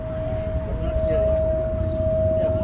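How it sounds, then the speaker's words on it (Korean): A steady siren-like tone holds one pitch throughout in Pokhara, Nepal, with people talking quietly underneath. "이 사이렌 소리가?"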